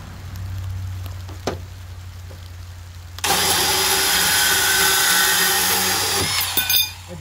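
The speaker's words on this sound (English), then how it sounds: "Put your bandsaw blade right there on the edge of the tape" A bandsaw runs near and loud, with a low hum at first, then a sudden bright rasping roar as the blade bites into metal pipe and cuts steadily for several seconds before easing off.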